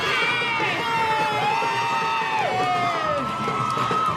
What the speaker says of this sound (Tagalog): sumisigaw ang mga taga-Bilbao